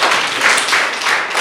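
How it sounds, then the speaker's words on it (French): Audience applause in a French-language classroom, a short dense burst of many hands clapping at steady volume. "Oui, applaudissez pour ces gens."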